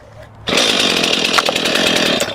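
A Stihl MS251 chainsaw with Easy Start roars to life after a quiet moment, its warm engine holding a loud, close, steady running drone for about two seconds.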